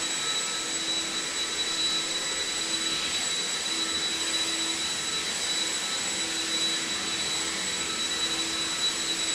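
Stihl leaf blower running steadily while blowing dust across a barn floor, a constant loud whining roar with a high engine tone, heard alone throughout.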